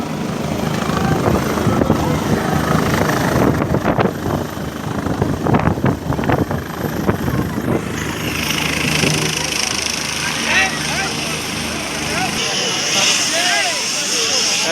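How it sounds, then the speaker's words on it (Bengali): A helicopter landing in an outdoor crowd, its steady rotor and engine roar loud and continuous throughout with a gusty, dusty wash, while someone talks near the microphone over it. "হেলিকপ্টার নাম रहा है, দেখো"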